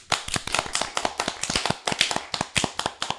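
Steady run of sharp hand claps and taps, fairly close and fairly dense, applause for a metal band welcomed into the radio studio.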